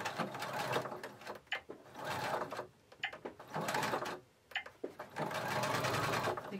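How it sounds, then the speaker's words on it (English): A sewing machine top-stitches the opening of a fabric face mask, running in close, loud bursts of rapid mechanical chattering separated by short pauses. "now I'm going to go back to my sewing machine and I'm going to top stitch one side of the opening"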